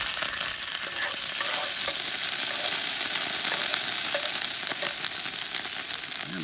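Garlic sizzles steadily in a hot Dutch oven over a camp setup, a continuous broadband frying hiss with faint stirring clicks, close and even throughout with no talk.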